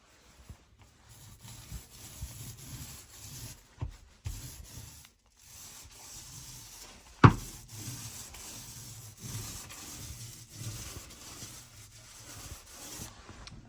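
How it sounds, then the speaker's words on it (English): Dried drywall compound is sanded by hand, giving soft, intermittent rubbing strokes with short pauses between passes and one sharp knock midway, close and fairly quiet with no talking. "Now we're going to sand, then paint."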